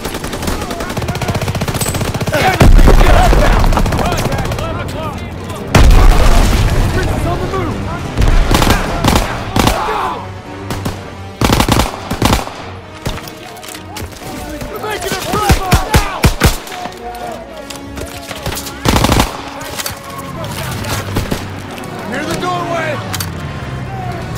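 Call of Duty: World War 2 combat: repeated bursts of machine-gun fire and single gunshots, some close and loud, others scattered, mixed with shouted voices and battlefield noise.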